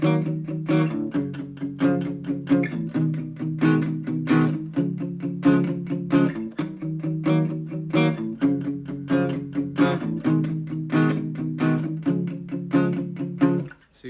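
Played on guitar as a demo, a repeating strummed and picked chord pattern in a steady, even rhythm, close and clear with no voice over it.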